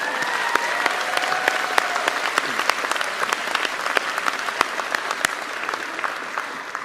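A university audience at Hofstra's scholarly excellence celebration applauds steadily, welcoming the deans onto the podium; dense, sustained clapping from a large crowd, fairly close and even, tapering slightly at the end with no talk over it.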